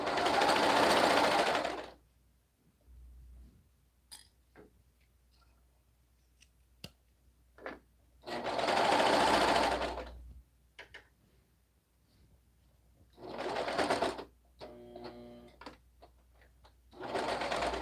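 A sewing machine stitches in three separate bursts, going slowly over a bulky seam, with quiet gaps and small clicks of handling between the runs.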